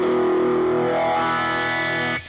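A sustained, distorted electric guitar chord rings out loud through a Crybaby wah pedal, its tone slowly sweeping as the pedal shifts, then cuts off abruptly at the end.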